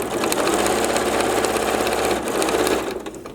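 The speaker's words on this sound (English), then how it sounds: "So I'm going to double stitch it as reinforcement." A sewing machine double-stitches upholstery fabric for a custom pink chair makeover, running as a loud, steady, rapid mechanical whir and needle chatter close by, slowing slightly near the end with no talking.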